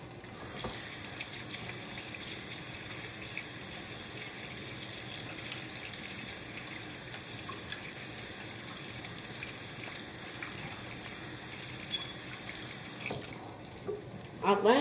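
A kitchen tap runs steadily into a sink while hands are washed after kneading homemade pizza dough, a continuous close splashing gush that cuts off near the end, followed by a few small clatters.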